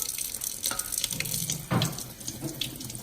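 Running tap water pours over mussels being rinsed in a sink, a close steady splashing stream with a brief louder gush as the shells shift under the flow.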